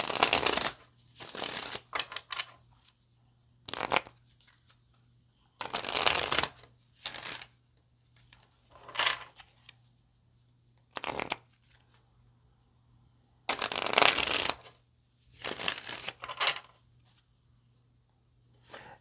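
Tarot cards are shuffled close up in a series of soft, papery riffling bursts, each lasting about a second, separated by quiet pauses over a faint steady hum.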